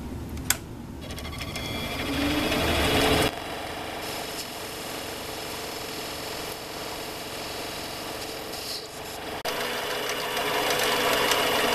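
A CNC machine turns an aluminum vacuum pod down in diameter, giving a steady mechanical whir and hum with a sharp tick near the start and shifts in tone as the cut goes on.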